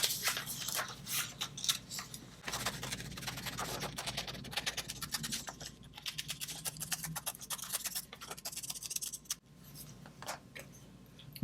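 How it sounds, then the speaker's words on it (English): Scissors snip around a round butterfly gift tag cut from a book page, giving a close, steady series of crisp clicks and paper cuts in quick irregular rhythm, with brief pauses between runs of cuts. "I'm just kind of pressing that in there, and I'm going to cut around it."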